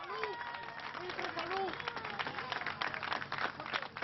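Rescuers at a mine rescue site clap as a rescued miner emerges, a faint dense patter of applause mixed with crowd noise, with a voice speaking over it.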